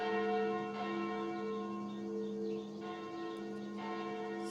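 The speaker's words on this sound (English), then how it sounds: "Those sound like the church's noontime bells." Church bells ringing at noon in the video game Sucker For Love: sustained, resonant bell tones with a few repeated strikes, heard clearly with no voices.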